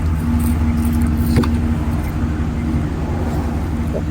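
A Chevy Express van's exhaust gives a steady low rumble, close and constant, with a brief metallic jangle and faint background traffic.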